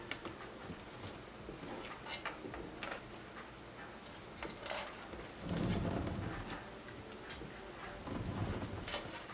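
Rain falling with thunder, a faint steady patter of drops broken by low rumbles that swell midway and again near the end, with no talking.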